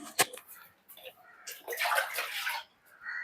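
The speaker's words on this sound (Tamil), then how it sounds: "தண்ணி மட்டும் ஊத்திட்டு போறேன்" Water is poured out for birds in short splashy bursts, a quick spill followed by a longer pour and a brief trickle, close and fairly faint.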